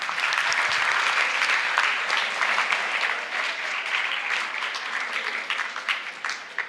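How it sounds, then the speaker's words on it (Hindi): A large crowd at a live motivational session in India bursts into sustained, dense applause, a steady wash of many hands clapping that stays loud throughout and fades slightly toward the end. "एक बार ढंग से तालियां बजाइए।"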